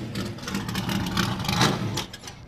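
A Vic Elford Chaparral Camaro historic Trans Am race car at Laguna Seca passes by, its engine a loud sustained roar that swells toward the middle and then fades away.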